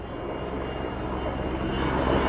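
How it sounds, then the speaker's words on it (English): Aircraft noise from helicopters flying overhead near a fire by a house, a steady, loud, broadband rotor and engine rumble that fills the whole stretch with no talk over it. "Do you hear the helicopters?"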